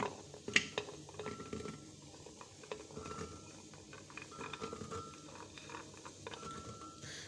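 Garlic cloves dropped into a grinder jug in a home kitchen, a few sharp clinks and light rattles against the jug over a quiet background, with one louder knock near the start.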